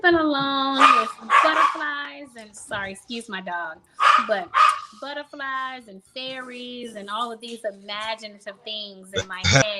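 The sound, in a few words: dog barking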